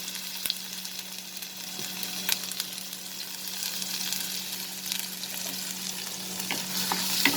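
Chopped ginger and garlic sauté in hot mustard oil in a kadhai, a steady close sizzle and crackle with light stirring throughout.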